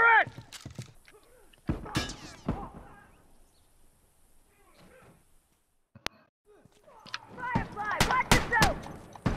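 Gunfire from a turret in an online shooter game, sharp loud shots in short clusters separated by quiet gaps, with a burst of rapid fire near the end and voices talking between.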